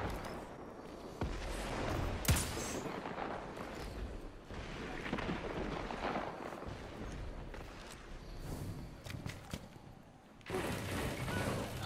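Gunfire in Destiny 2 with a scout rifle: scattered sharp cracks and dull booms sit over a steady rumble of game ambience at a moderate level.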